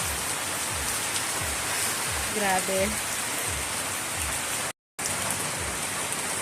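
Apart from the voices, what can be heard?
heavy rain pouring down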